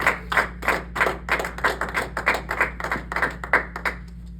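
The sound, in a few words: congregation clapping in church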